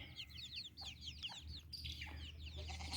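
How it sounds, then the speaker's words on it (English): Chickens on a farm clucking and chirping softly in quick repeated calls, fairly faint and distant over a low steady background rumble. "Seem to be pretty nice chickens."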